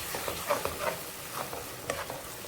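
Brain masala with egg mixed in is stirred in a pan, giving soft scraping strokes over a faint sizzle, quiet and close with no voices.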